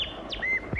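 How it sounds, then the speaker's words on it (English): A small wren chirps twice near the microphone, quick bright whistled notes with a brief rising sweep, heard alone in a 1940s film scene. "A wren, my dear."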